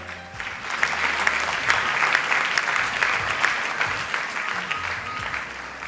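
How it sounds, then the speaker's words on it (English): Sustained applause from a pageant audience for the Miss Universe Sri Lanka 2011 first runner-up, dense steady clapping filling the hall at even loudness throughout. "Please give her a big round of applause."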